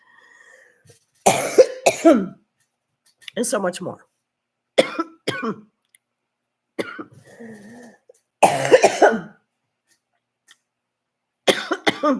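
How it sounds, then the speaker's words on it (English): A person coughs hard in several loud, harsh bursts spread between spoken phrases, with talking heard throughout. "I say this as I'm coughing my head off."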